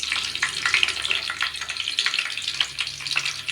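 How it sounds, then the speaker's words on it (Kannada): Mustard seeds, curry leaves and green chillies fry in hot oil, giving a close, steady sizzle with dense crackles and small pops throughout. "ಎಣ್ಣೆ ಕಾದಿದೆ, ಸ್ವಲ್ಪ ಸಾಸಿವೆ, ಸ್ವಲ್ಪ ಕರಿಬೇವು ಸೊಪ್ಪು, 1-2 ಹಸಿರು ಮೆಣಸಿನ್ಕಾಯಿ"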